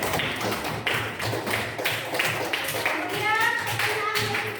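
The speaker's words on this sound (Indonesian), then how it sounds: "tepuk tangan untuk Renata." A classroom full of students claps for a classmate during a lesson. The applause is dense and steady, with many hands clapping close by for several seconds, and a voice is faintly heard near the end.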